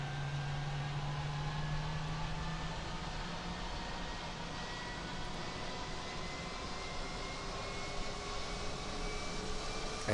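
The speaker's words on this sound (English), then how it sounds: "engine startup sounds on these have gotten a little bit better too, both outside the airplane and inside the airplane" An MD-11 airliner's engines spool up during startup in a flight simulator, a steady loud whine and roar with a low tone that fades early on, continuous for about ten seconds with no talk.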